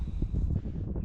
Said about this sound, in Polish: Deszcz pada, przestaje, dość silny wiatr, taka pogoda nie za ciekawa.